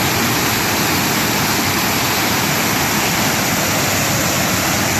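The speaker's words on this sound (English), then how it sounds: "So yes, this is waterfall number 4." Twin Falls waterfall on Maui runs with high water flow, giving a loud, constant, close roar of rushing water with no talking.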